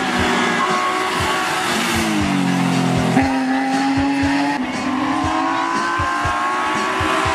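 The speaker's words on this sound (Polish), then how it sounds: "Podczas Summit Finance Race na trasie kibice oglądali ten BMW M3 Ryszarda Życzyńskiego" A BMW M3 competing in the Open Plus 2000 class on a hill-climb course roars continuously and loudly at high revs, its engine note climbing and dropping through gear changes, with tire noise in the mix.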